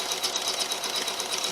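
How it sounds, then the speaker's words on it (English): Sewing machine quilting with metallic thread, a fast, even mechanical whir with rapid regular stitching pulses, close and steady, with no talk. "I'm using metallic thread right now on my machine."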